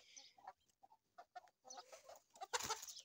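An Aseel rooster gives a quiet run of short clucks and throaty calls, close by but faint, ending in a louder burst of clucking.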